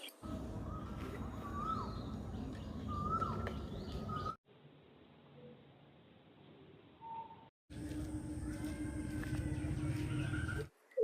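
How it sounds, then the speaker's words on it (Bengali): Birds, including bulbuls, call and chirp in a palash flower garden near Kolkata in the early morning. Short whistles and tweets come from moderate distance, with a quieter break midway. "একটু সকালে এসেছিলাম পাখির ডাক শুনতে"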